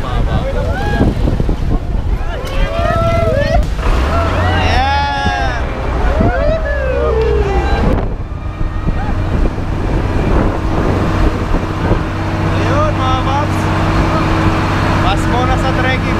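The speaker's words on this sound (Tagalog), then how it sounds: "Muna sa trekking dito tayo sa 4x4 dahil pagod na, kailangan sumakay na." A 4x4 vehicle rides along a rough trail toward 13 Falls in DRT, Bulacan, with a steady, loud rumble of engine and wind buffeting the whole time. Passengers talk and call out throughout.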